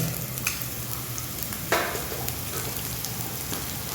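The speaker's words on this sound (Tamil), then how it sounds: "ஒரு 5 நிமிஷம் 10 நிமிஷம் அது கொஞ்சம் ஃப்ரை ஆகட்டும்" Lentil and tamarind curry base frying in a pan, giving a steady close sizzle with soft crackles and an occasional stirring scrape, continuous and alone without talk.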